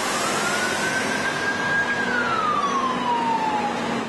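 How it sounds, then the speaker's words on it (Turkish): A single fire engine siren wails in a long rising and falling sweep over a constant roar of storm wind, sounding some distance away, during a windstorm in Istanbul. "İtfaiye sirenleri duyuldu."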